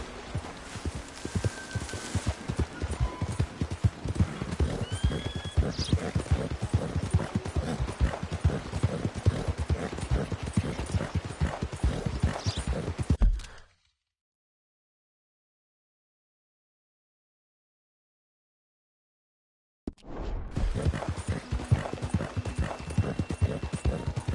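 A horse trots in the video game Red Dead Redemption 2, its hooves beating a steady close clip-clop rhythm. The hoofbeats break off into total silence for several seconds and then start again.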